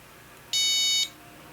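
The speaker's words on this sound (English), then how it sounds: "As you move the slider and release, it gives you a tone of that frequency." A steady electronic side-tone beep from a Morse keyer set to a chosen pitch, sounding once for about half a second, clean and loud over a quiet background.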